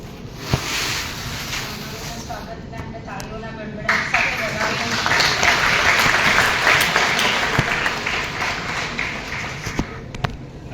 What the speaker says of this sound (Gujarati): સ્વાગતને આપણે તાળીઓના ગડગડાટ સાથે વધાવીએ.